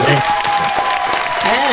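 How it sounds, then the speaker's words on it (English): A small group claps through the moment, continuous, with voices talking over it. "a big round of applause to all of you"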